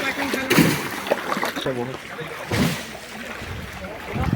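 People wade into shallow river water during a Bihu festival outing in Assam, sending up a few bursts of splashing and sloshing as voices talk and call out nearby.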